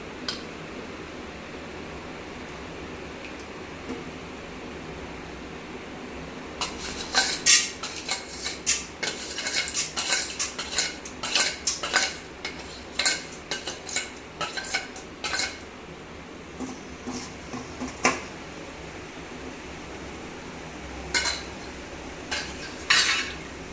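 Fenugreek seeds and urad dal stir-fried in hot oil for a Salem-style dried fish curry, heard as a steady low frying hiss with repeated close metallic scrapes and clinks of a spoon against the pan, denser in the middle stretch.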